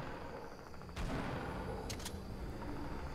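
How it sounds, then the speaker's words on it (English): Fortnite gunfire: a sharp shot cracks out at about one second, then a quick pair of shots follows and a fainter one comes after, over a low game background. "I'm hearing gunshots everywhere, I'm scared."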